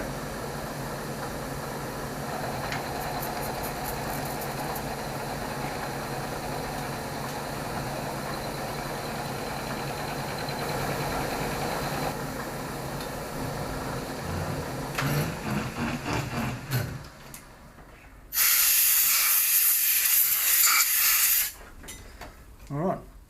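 A powered lathe takes clean-up cuts on a workpiece with a 16mm high-speed steel tool, giving a steady hissing machining drone that runs for a long stretch before a brief loud rushing burst and quieter pauses near the end.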